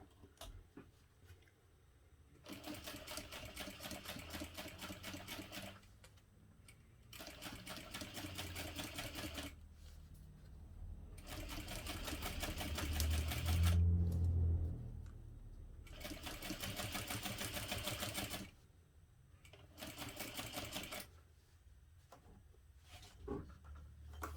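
A sewing machine stitches a backpack in several bursts of rapid mechanical whirring, each lasting a few seconds, with short quiet pauses between them and one longer, louder run in the middle.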